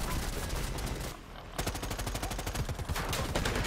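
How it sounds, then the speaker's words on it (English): Dense, loud gunfire from players shooting in Predator: Hunting Grounds, rapid automatic bursts overlapping continuously with a short lull partway through, no voices. "I like how y'all just shooting the hell out of it"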